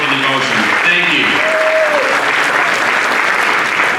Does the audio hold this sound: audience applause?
yes